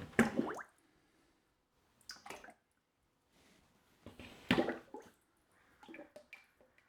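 Liquid clay slip sloshes and splatters as it drains from plaster molds in a few short, wet bursts separated by near silence, close and fairly quiet.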